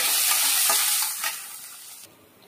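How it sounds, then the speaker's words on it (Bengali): Grated ginger frying in hot oil with bay leaf and whole cumin, a steady bright sizzle with soft stirring scrapes throughout, easing slightly toward the end. "আদাটা একটু লাল করে আমি ভেজে নিয়েছি।"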